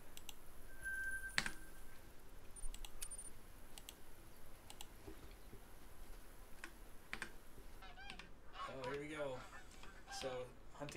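Geese honking during a hunt in a video game, with scattered calls and clicks over a steady outdoor ambience, a louder burst of overlapping calls near the end.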